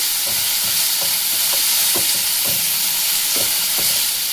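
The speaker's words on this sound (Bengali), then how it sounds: "দেখুন হালকা একটু ভাজা হয়ে গেছে" Capsicum and tomato fry in a pan, a constant loud sizzle punctuated by regular scraping strokes of a stirring spoon, close and without voices.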